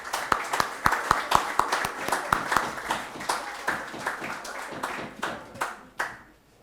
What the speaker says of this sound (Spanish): vamos a dar un fuerte aplauso a nuestro importante conferenciante de hoy